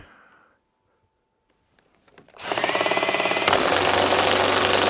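A DeWalt cordless drill struggles under heavy load, cutting in abruptly after near silence with a loud, strained, rough whir that holds steady and grows slightly heavier toward the end.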